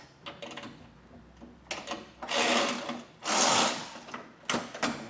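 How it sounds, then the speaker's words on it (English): A power tool on a 2024 Ram 1500 whirs with a mid-depth socket to break a bumper bolt free, sounding in several short bursts of grinding, rattling noise between pauses. "I'm just going to break it free with the tool and just come back and remove it by hand"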